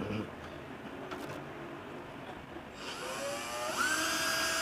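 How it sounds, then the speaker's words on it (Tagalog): A cordless drill backs screws out of the rear panel of an audio mixer, its whine rising and steadying close up, with a person talking beneath it. "Gagamit lang tayo ng cordless drill."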